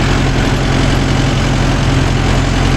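A Mahindra Yuvo Tech Plus 585 4WD shuttle-gear tractor, rigged with a 42-blade rotavator, runs with a steady, loud low-pitched diesel rumble close by, continuous and unbroken with no talk.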